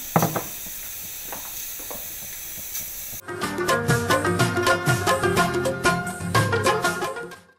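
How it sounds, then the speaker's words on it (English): Pot of boiling water with oil added while cooking palaw, a steady hiss and bubbling that jumps to a louder, crackling sizzle once the oil goes in, continuing without voices. "once the water is boiling, we have to put in a bowl of oil as well"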